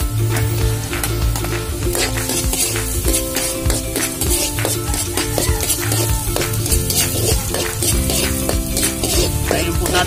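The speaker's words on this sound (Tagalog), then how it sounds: "Ngayon po natin mag-brown ang bawang." Garlic sizzles in hot oil in a pan for a curried catfish dish, with a loud, continuous frying hiss broken by repeated scraping and clinking of a utensil stirring against the pan.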